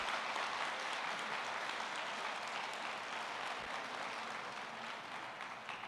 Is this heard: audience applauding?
yes